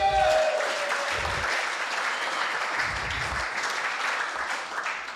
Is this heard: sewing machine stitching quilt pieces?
no